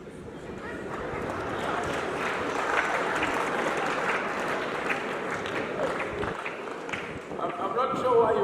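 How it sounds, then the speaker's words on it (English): An audience at a school speech day claps steadily and broadly for several seconds, a dense wash of applause filling the room at a fairly even level before it thins near the end. "I'm not sure why you're clapping."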